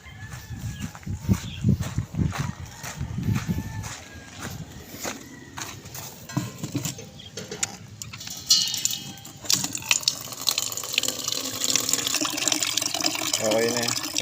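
Water pours and splashes into a drinking container for caged African lovebirds and parakeets, close and continuous, with scattered clucking and tapping around it and a person speaking now and then.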